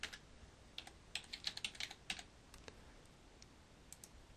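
Username being typed on a computer keyboard while setting up an email account, a quiet run of irregular key clicks that bunch into a quick burst and then thin out to a few scattered taps, with no talking.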